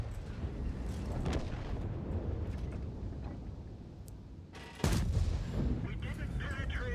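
An IS-7 heavy tank cannon in World of Tanks fires with a sharp, booming blast near the end, amid rumbling battle noise, earlier muffled shots and a commentator talking.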